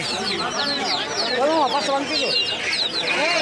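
Chickens cluck and squawk repeatedly amid a busy crowd at a poultry market in Sirajdikhan, Munshiganj, with people talking nearby throughout.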